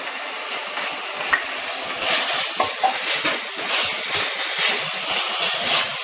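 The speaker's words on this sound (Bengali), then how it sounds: "সমস্ত মশলা ভালোভাবে ফ্রাই করে নিতে হবে।" Ground cumin and coriander powder fry in a pan for a Bengali prawn curry, a steady sizzle broken by scraping stirs and the occasional clink of utensil on metal.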